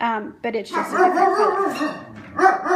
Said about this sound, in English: Sorry, that was my dog. I'm not sure what she's barking at.